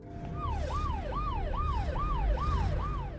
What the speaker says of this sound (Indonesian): mereka dibuat kaget setelah mendengar suara sirine polisi yang mendekat ke hanggar tersebut